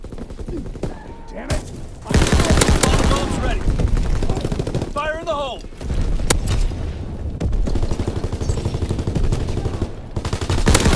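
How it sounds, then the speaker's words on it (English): Aircraft strafing in the Call of Duty: WWII game sounds as sustained, loud, close bursts of rapid machine-gun fire over a rumbling battle din, with brief whistling effects and short lulls between volleys. "Strafing the target."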